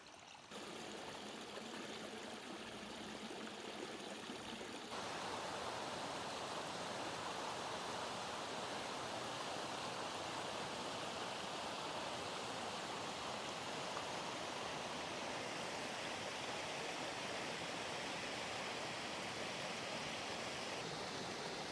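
Water flows along a stream in Lyman Run State Park as a dense, steady rushing wash, close and continuous from start to finish, growing fuller after the first few seconds with no voices.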